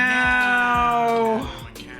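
A person mimics a cat's meow, producing a loud, close, drawn-out nasal vocal cry that falls in pitch and ends in a short trailing squeak.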